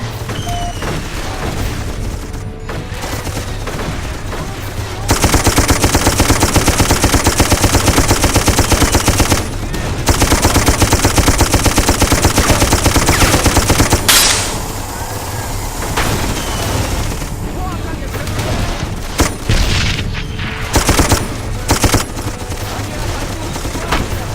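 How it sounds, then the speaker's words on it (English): Sustained bursts of rapid machine gun cover fire in the war shooter Darkest of Days, loud and close, with dense rattling stretches broken by short pauses and scattered booms of other gunfire. "Get your ass on that gun and provide cover fire"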